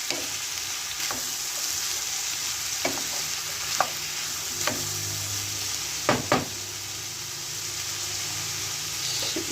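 Steady sizzling of chicken and mushrooms frying in a pan, with occasional scrapes and clinks of a utensil stirring, close and continuous.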